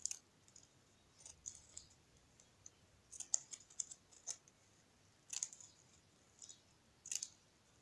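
Scissors snip through ribbon being folded for a wrapped-coin flower decoration, a series of sharp, quiet clicks in short bursts with pauses between, close and alone without talk.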